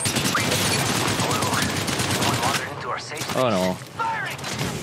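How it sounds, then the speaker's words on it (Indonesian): Rapid, loud gunfire in the mobile shooter Apex Legends Mobile dominates the first few seconds, then gives way to in-game voices and effects, with a short burst returning near the end. "Shots fired and they're hitting me."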